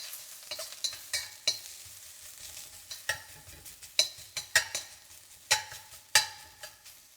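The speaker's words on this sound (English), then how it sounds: "Okay, so to start, we're gonna lightly toss in the aromatics." Aromatics being stir-fried for a Thai stir fry, with a quiet background sizzle broken by a series of sharp, irregular clanks and scrapes of the utensil against the pan, up close and without talk.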